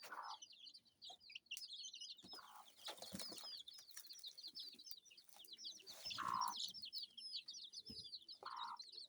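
Kienyeji hen clucking softly among her chicks on a Kenyan farm, with a steady stream of high peeping from the chicks and a few louder clucks spaced through it.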